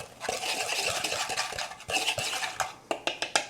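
A spoon scrapes and clinks briskly around a bowl of spice blend, a steady run of gritty stirring ending in a few sharp taps, close up.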